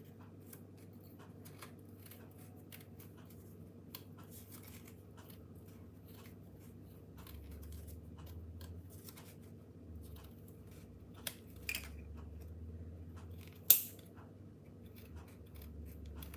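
Scissors snipping through cake-decorating material such as fondant or a paper template during two-tier birthday cake decorating, a few soft cuts standing out from steady low background hum, with one sharper snip near the end.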